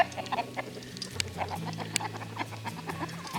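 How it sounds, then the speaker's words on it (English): A gray Americana rooster clucks and pants after being caught in a net, with short, close, irregular clucks over a low steady background hum. "Rooster has been caught."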